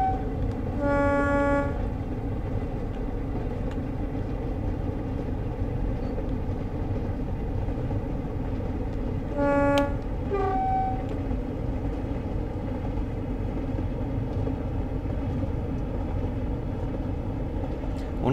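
A Class 45 diesel locomotive in Train Sim World runs on the Leeds to Manchester Victoria route with a steady engine and rail rumble, broken by two short horn blasts, one early and one near the middle.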